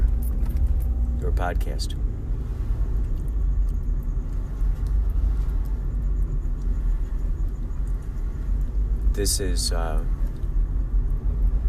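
Car interior while driving, a constant low engine and road rumble filling the cabin beneath someone speaking, with occasional jangling keys rattling near the start and again toward the end.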